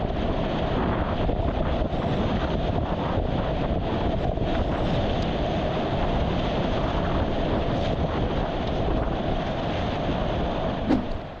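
Steady wind-buffeted ambience with water washing around an EXO Kayaks Zion Creek kayak as it is paddled, a continuous broadband rush with soft splashes throughout, no voices.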